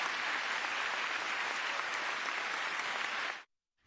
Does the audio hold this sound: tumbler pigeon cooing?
no